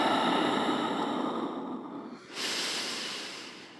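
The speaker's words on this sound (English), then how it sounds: "And we're breathing here for 1," Deep, slow breathing during a gentle somatic yoga flow, a long airy exhale heard close and alone, followed after a brief pause by a hissy inhale.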